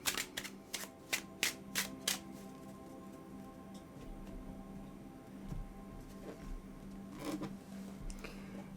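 A deck of tarot cards is shuffled in a long, slow shuffle, with a run of crisp riffling bursts at first, then softer sliding and patting of cards, close and fairly quiet.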